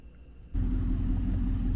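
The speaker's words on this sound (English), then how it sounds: "I'm going to start it up and get the AC running." A pickup truck's engine cranks and catches after a brief quiet moment, then settles into a steady, close idle rumble.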